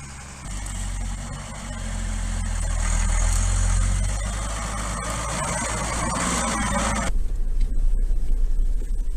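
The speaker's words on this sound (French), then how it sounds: "c'est bien un diesel" A Gazelle 4x4's diesel engine runs with a steady low rumble that swells slightly partway through, then cuts to a rougher, rattling idle near the end.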